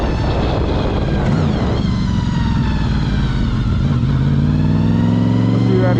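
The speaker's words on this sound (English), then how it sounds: "Clutch in, throttle off, shift up, let clutch out, and slowly get back on the gas." A motorcycle engine hums steadily, then the pitch dips at an upshift and climbs again as the bike gradually accelerates, close and loud throughout, with a rider talking over it.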